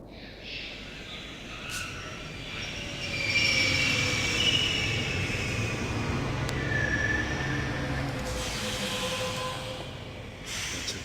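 A train pulls away in the point-and-click adventure game The Longest Journey, with a steady low rumble of wheels on rails and squealing metallic tones rising as it gains speed, loud and continuous without voices.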